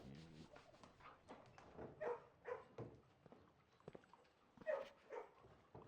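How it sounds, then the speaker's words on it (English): A puppy in the Blue Prince video game gives soft, high yips and whimpers in a few short bursts, fairly quiet. "Puppy."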